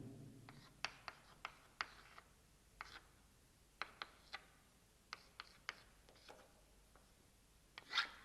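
Handwriting during a chemistry lecture on p-block elements: a series of quiet, irregular taps and short scratching strokes, spaced about half a second to a second apart, with no voice over them.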